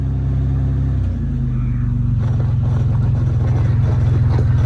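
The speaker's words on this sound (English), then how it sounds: "We're gonna do the world's slowest burnout." A Toyota 4Runner engine rumbles and revs in a slow burnout, a low, loud, steady drone with a throaty pulsing that rises slightly partway through. No voices are heard.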